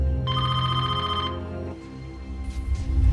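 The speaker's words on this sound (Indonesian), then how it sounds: "Saat Catherine sedang teralihkan oleh telepon dari ajudannya" A telephone bell rings loudly in a film scene from a Tom Cruise action movie about a fight against a rogue AI, repeated electronic trills for over a second before fading into low background score and ambience.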